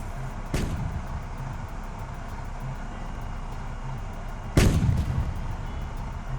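Two heavy booms from a WW2 tank cannon firing in a video game, one near the start and a louder one about four seconds later, each with a rumbling tail over a steady engine drone.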